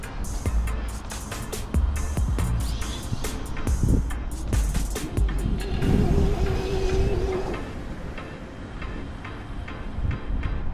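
A 1/5-scale Losi 5ive-B RC car with a 12s brushless conversion screams at full throttle across an off-road field, a loud whine with rattling chassis clatter and gravel hits, rising then fading toward the end.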